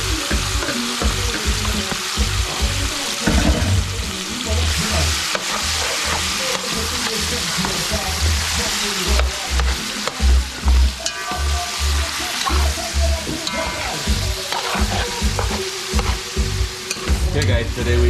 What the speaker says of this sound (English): So I'm going to put this to fry. And the oil is very hot.